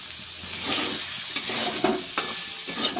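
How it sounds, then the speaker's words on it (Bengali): Soybean chunks seasoned with salt and turmeric fry in hot oil in a kadai, giving a steady close sizzle broken by a few sharp spatters and scrapes of a spoon stirring them, with no voices. "এই তেলেই আবার সয়াবিনটাও ভেজে নিচ্ছি"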